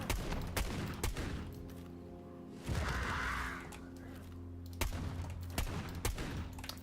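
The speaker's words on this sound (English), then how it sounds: "let's see if I shoot you in the head." Gunfire in the video game Sulfur, several sharp shots in quick bursts with a thump and a whooshing swell between them, loud and close over a low steady game backdrop.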